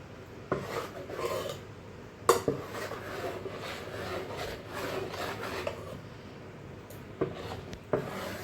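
A spoon stirs thick dosa batter in a bowl, making steady rasping, scraping strokes with occasional sharper knocks against the side, close and moderately loud with no talk.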